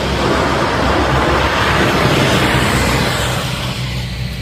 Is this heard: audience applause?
no